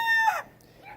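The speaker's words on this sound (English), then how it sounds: "all the roosters start going crazy" A farm rooster crows close by in one loud, drawn-out cock-a-doodle-doo that breaks off abruptly, followed by quieter clucking from the surrounding chickens.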